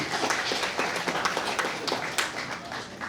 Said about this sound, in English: You can give a round of applause.